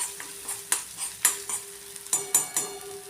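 Chili and ginger tempering for vada pav stirred into potatoes in a pan: a steady sizzle with rhythmic spatula scrapes and clinks about every half second, close and clear with no voices.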